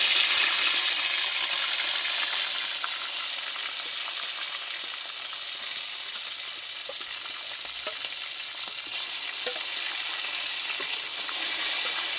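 Rohu fish pieces frying in hot oil give a steady, dense, close crackling sizzle that holds at an even loudness throughout, with no voices.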